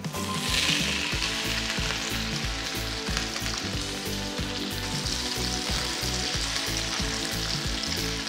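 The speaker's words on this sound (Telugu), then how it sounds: "కడాయి కొంచెం వేడెక్కిన తర్వాత ఈ కట్ చేసిన దొండకాయ ముక్కలన్నీ దీంట్లో వేసేసి మనం ఫ్రై చేసేద్దాం." Ivy gourd pieces fry in hot oil in a kadai, giving a loud, steady sizzle that runs without a break and carries a rhythmic scraping of stirring underneath.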